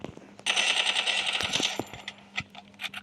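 Rapid automatic gunfire in a shooting video game, a fast rattling burst of shots followed by scattered single cracks and clicks, loud and close, with no speech.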